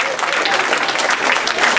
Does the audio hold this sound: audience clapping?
yes